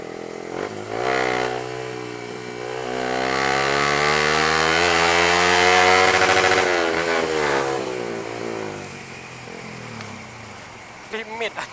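A motorcycle engine climbs in pitch as it revs hard through third gear up to its limit, loud and close, then falls away; voices chatter alongside the rising drone.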